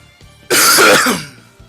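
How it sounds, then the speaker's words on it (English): A person gives one loud, close cough, a single harsh burst that fades in a quiet room. "Okay, I have coughed"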